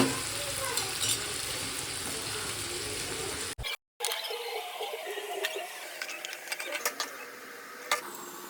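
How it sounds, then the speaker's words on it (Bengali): Potatoes fry in a pan of oil with a close, steady sizzle and crackle, broken by a brief dropout to silence partway through, then a softer popping sizzle with occasional clicks. "তার জন্য আমি এখানে আলু ভাজা করছি"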